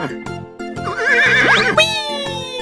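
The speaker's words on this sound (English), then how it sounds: "Horse." Horse neighing in a 3D animal slide video game, a loud wavering whinny that rises and falls over a background music loop, close and clear for about two seconds.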